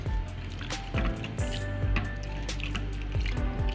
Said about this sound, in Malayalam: നല്ല പച്ചവെള്ളത്തിൽ നന്നായിട്ട് കഴുകി വാരി പിഴിഞ്ഞെടുക്കാം